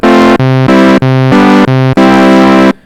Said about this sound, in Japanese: これオシレーターそのものの音ですね。